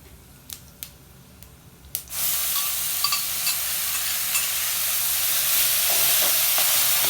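Chili and garlic paste hitting a hot pan for a tomato chutney, with a few light clicks first, then a sudden loud, steady sizzle that keeps going to the end, with faint stirring scrapes.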